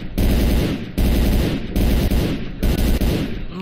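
Rapid bursts of automatic gunfire from a rifle in the game S.T.A.L.K.E.R. Cold Blood, loud and close, in four sustained volleys separated by brief pauses, with a game-like synthetic punch.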